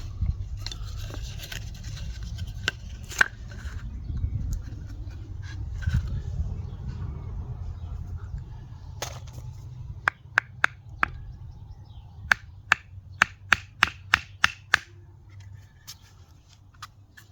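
Knife blade scraping and shaving into soft wood while squaring a hole for a branch flute, starting with rough continuous cutting over a low hum, then a series of sharp, evenly spaced snapping cuts near the end.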